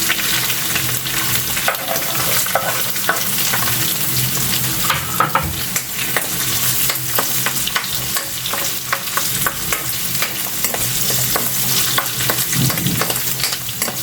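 Garlic sizzling steadily in a hot pan while being stirred, a continuous loud frying hiss with scraping stir sounds and no talking.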